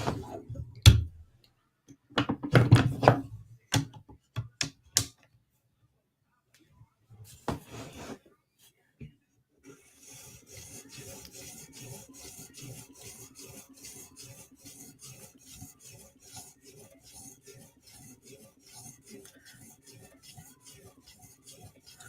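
A Chris Reeve Inkosi tanto blade is drawn across a 2000 grit sharpening stone in steady, repeated one-direction strokes, a soft rhythmic rasp following a few louder knocks and handling sounds.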